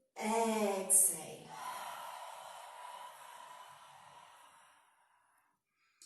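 A long, steady exhale during a yoga breathing exercise, breathy and close. It starts strong, then fades slowly over several seconds to near silence.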